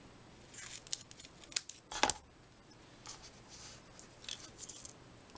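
Scissors snip through a strip of paper during a card-making craft, several quick crisp cuts in a short irregular run, close and fairly quiet with no talking.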